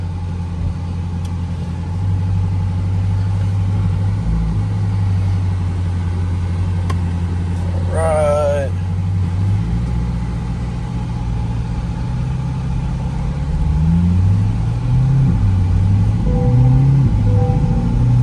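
A Chevrolet C8 Corvette with an MBRP cat-back exhaust rumbles at low speed from inside the cabin, a steady deep drone that rises in pitch as the car accelerates near the end, with a brief spoken word.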